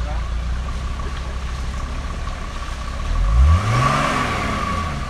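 A car engine idles, then revs up with a rising whine around the middle before settling back, heard close with a steady hum underneath.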